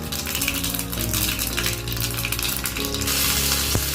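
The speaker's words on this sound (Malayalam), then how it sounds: "ചൂടായ വെളിച്ചെണ്ണയിലേക്ക് കുറച്ച് കടുക് ഇട്ടിട്ടുണ്ട്." Mustard seeds and dried red chili sizzle and crackle in hot coconut oil, a dense, close frying hiss with scattered sharp pops and a brief clink near the end.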